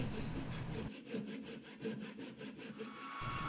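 A hand saw cuts a slot into a wooden square bill crankbait lure body, with steady back-and-forth rasping strokes close to the microphone.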